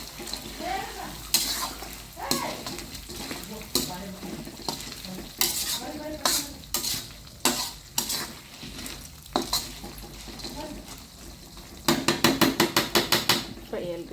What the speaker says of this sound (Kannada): ಉಳ್ಳಾಗಡ್ಡಿ ಫ್ರೈ ಅಲ್ರಿ